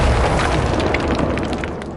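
A Bombarda spell goes off in Hogwarts Legacy, a loud, booming explosion with a rumbling low end and crackling bursts that slowly fades, heard alone without talk.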